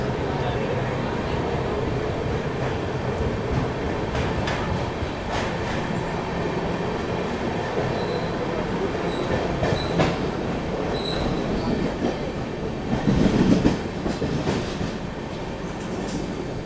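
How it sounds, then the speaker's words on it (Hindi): The New Delhi–Amritsar Shatabdi Express rolls along the rails after leaving Ludhiana Junction, a steady loud rumble with faint clacking and occasional wheel squeal, swelling near the end. "लुधियाना जंक्शन से ट्रेन हमारी निकल चुकी है।"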